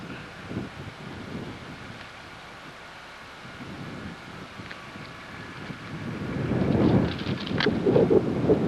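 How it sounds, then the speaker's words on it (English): Blustery wind buffets the microphone in low, uneven rumbles, building stronger and louder toward the end. "Windy as heck again"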